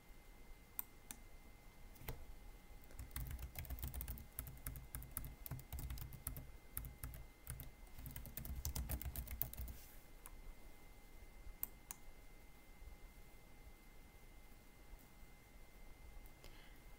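Computer keyboard typing and mouse clicks while using an archive catalogue search box, bursts of quick close clicks for several seconds, then quieter sparse clicks against a faint steady hum.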